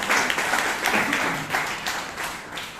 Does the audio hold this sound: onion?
no